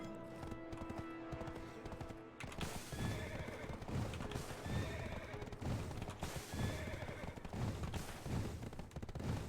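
A horse in the game Black Desert Online whinnies, then its hooves clip-clop in a fast, rhythmic gallop under layered game sounds, moderately loud.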